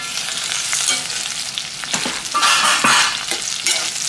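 Chillies fry in a pan with a loud, bright sizzle, swelling into harsher spitting bursts partway through, with scattered pops and stirring scrapes close by.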